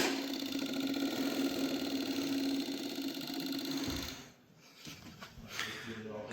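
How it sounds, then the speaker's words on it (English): An electric fuel pump on a fire-damaged 1980s Yamaha motorcycle hums and whirs steadily at close range for about four seconds, then cuts out, leaving quieter clicks and faint handling noises. "can see the fuel pump is working, the fuel is going through"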